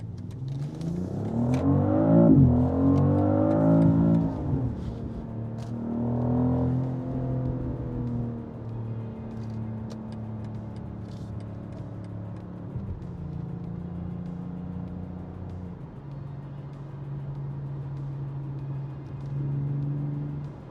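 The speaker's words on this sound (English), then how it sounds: "Testing the 2025 BMW X3 M50." A 2025 BMW X3 M50 driving and accelerating hard, engine revving up through rising gear pulls then settling into a steady cruising hum, heard loud from inside the cabin with no talking.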